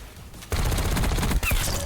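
Rapid machine gun fire in the Black Ops 6 video game bursts in after a quiet half second, a dense, loud stream of shots with a brief break near the end before resuming.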